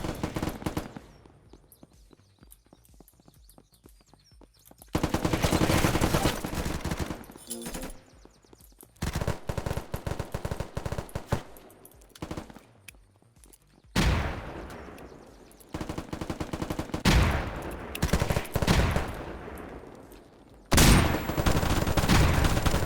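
Bursts of automatic gunfire from weapons in the survival video game Unturned, loud and close, with rapid rattling volleys broken by short pauses and a few single shots.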